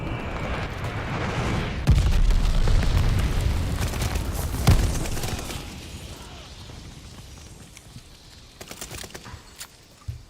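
Enemy glide bomb blast in Call of Duty Vanguard: a heavy boom hits early and rolls into a long rumbling roar, a second thud follows, then debris and mechanical rattles fade out over several seconds.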